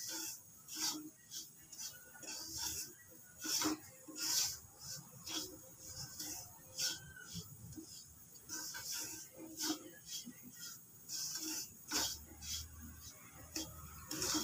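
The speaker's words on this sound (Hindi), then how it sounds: "तो हम इसको अच्छे से आराम से चलाते हुए" Semolina being stirred and roasted slowly in a pan over low heat for suji laddoo, a repeated scraping and rasping of the spoon against the pan in steady strokes, close and moderately loud.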